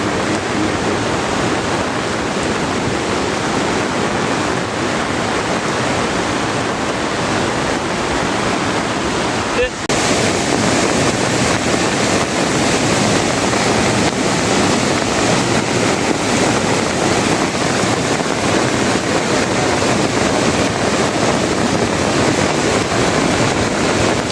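A flooded river in the Konkan region during heavy monsoon rain rushes loudly and continuously, a dense roaring wash of water with a brief dip around the middle and no voices.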